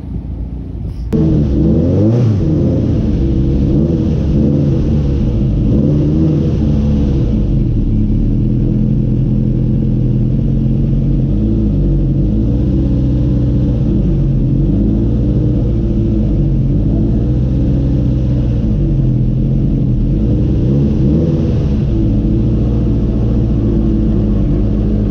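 A twin-engine Corsa drag car runs at Santa Pod, its deep engine rumble holding steady and close for the whole stretch with shifting rev tones and no talk.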